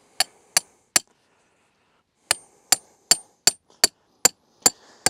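A canid pest ejector stake is hammered into the ground with a driving rod: three sharp metallic strikes, a pause, then eight more evenly spaced ringing blows, loud and close with nothing else around them.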